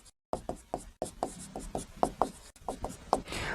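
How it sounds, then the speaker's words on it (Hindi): Marker or chalk writing a word on a classroom board, a run of short rhythmic scratchy strokes with brief pauses, close and fairly quiet, with no talking. "हम एक शब्द लिखते हैं"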